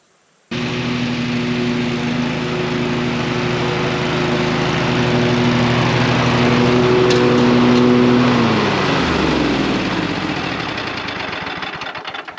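A lawn mower engine at a dirt kart track starts abruptly and runs loud and steady close up, with a droning hum that shifts lower near the end.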